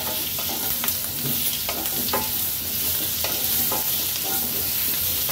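Peeled, dried potatoes frying over a high flame in a spoonful of oil in a nonstick pan, a steady close sizzle broken by repeated scraping stirs of a spoon, with no talking.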